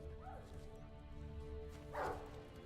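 Dog in The Witcher 3 video game barking once or twice, with a short yip early and a louder bark near the end, fairly faint over a steady droning game ambience.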